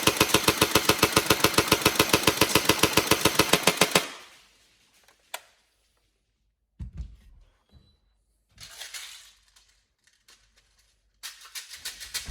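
Upgraded Tokyo Marui SGR12 AES airsoft shotgun firing a rapid, steady burst of about twenty evenly spaced mechanical shots for four seconds, loud and close, followed by quieter intermittent clicks and handling noises.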